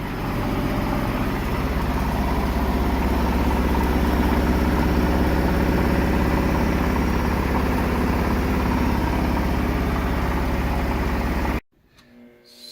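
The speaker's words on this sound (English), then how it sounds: "So the spin cycle was spinning for quite a long time." Splendide 2100 washer dryer combo in an RV running a long spin cycle, a steady loud droning hum with vibration throughout, then cutting out abruptly near the end.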